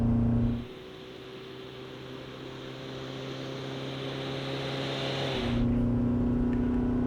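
A Kia Tasman ute hauls a heavy load up a steep 15% grade, its engine droning steadily and loud under sustained throttle, the low hum shifting pitch briefly near the end as the gear changes.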